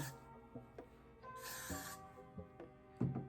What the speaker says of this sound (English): I'm gonna go ahead and spray some of the Got to Be spray on the top area